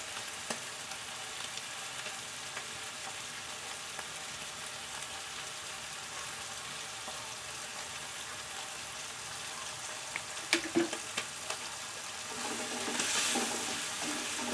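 Tomatoes fry in a pan, giving a steady, moderate sizzle throughout with occasional clicks and scrapes of stirring and a brief louder clatter and rush toward the end.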